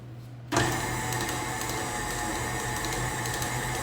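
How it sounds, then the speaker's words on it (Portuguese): An electric stand mixer beating dough starts abruptly after a brief quiet moment, then holds a steady whirring motor drone with a faint rhythmic churn as it runs alone. "E agora eu vou bater na batedeira."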